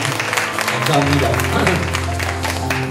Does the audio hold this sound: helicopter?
no